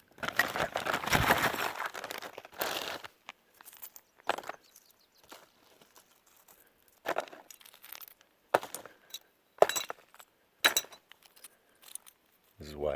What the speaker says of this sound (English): We've made it to a bunch of broken glass.